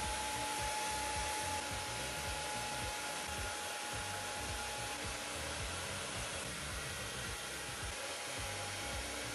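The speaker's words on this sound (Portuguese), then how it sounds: "E agora eu vou finalizar com o secador, só com o jato mesmo." A hair dryer with its nozzle removed blows steadily and loudly on hair, a constant broadband roar lasting the whole stretch with no talking.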